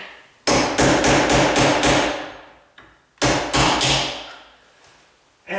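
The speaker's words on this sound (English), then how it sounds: "I'm just gonna start it with my nail set." A hammer taps a nail set to drive out a door hinge pin on a hollow core door, striking in two quick bursts of about five sharp, ringing metallic blows, close and loud.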